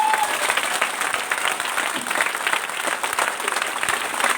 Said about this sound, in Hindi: तो एक बार अपने आप के लिए सब तालियां बजा दे।